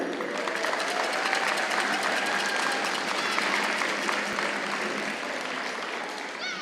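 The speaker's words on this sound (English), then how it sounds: "let's have another applaud for each and every one of you" Students at a school gathering are applauded with steady, dense clapping from a sizeable crowd, close and loud, holding evenly for about six seconds and easing slightly at the end.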